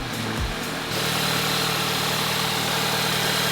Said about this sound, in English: it started and that engine sounds sweet